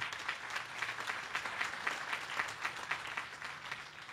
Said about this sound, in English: Would you give him a nice hand applause?